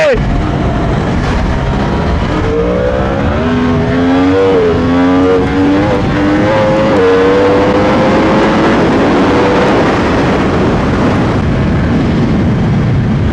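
A 2024 Yamaha R1M sport motorcycle engine revs up through rising gears, the pitch climbing repeatedly in strong sweeps as it accelerates hard, close and continuous, in Naples.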